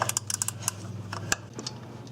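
A ratcheting gear wrench works a 10mm bolt on a Suzuki Forenza transmission range sensor, making a quick run of sharp, close clicks that thin out and become more spaced toward the end.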